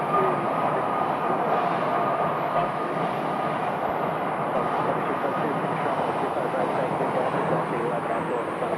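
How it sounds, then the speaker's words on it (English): A Boeing 757 jet airliner departing at Phoenix Sky Harbor Airport, a steady broad roar of jet engines that stays loud and constant without a clear rise or fade. "there goes a beautiful 757 departure"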